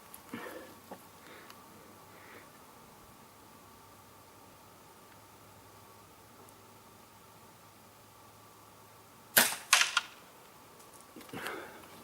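Air rifle shot from a Sandwell Imp Mk fitted with a Sandwell moderator, fired at a target on a range: one sharp, moderated crack near the end, with a brief follow-up clatter, over quiet background hiss.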